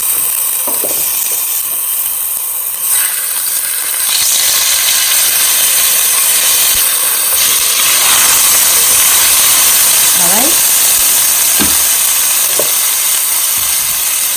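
Ginger and garlic fry in a hot pan for a bottle gourd masala curry, giving a loud, steady, close sizzle that hisses throughout with no one talking.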